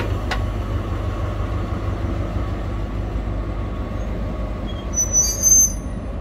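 A shunting locomotive pulls away a short distance after uncoupling, a steady low rumble of engine and rolling wheels filling the whole stretch, with a brief high squeal of wheels on rail near the end.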